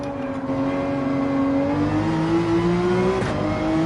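Race car engine in Gran Turismo 7, a loud continuous howl that climbs in pitch as the car accelerates, with a steady whine underneath and no talking.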